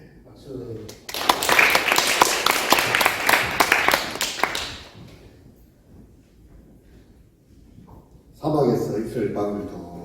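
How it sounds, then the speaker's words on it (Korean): Brief burst of applause from a young adults' church worship gathering, a few seconds of dense clapping rising sharply then fading into quiet, with a voice resuming afterward. "예, 박수."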